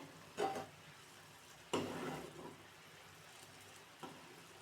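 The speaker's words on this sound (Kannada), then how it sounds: "ಮಿಕ್ಸ್ ಮಾಡ್ತಾನೆ ಇರಬೇಕು ಇಲ್ಲಾಂದರೆ ತಳ ಹಿಡ್ಬಿಡ್ತೈತೆ" Mysore pak mixture stirred in a pan, with a few distinct scraping, sizzling strokes spaced about a second apart over a steady low frying hiss, close and fairly quiet.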